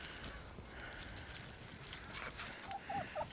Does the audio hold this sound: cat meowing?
no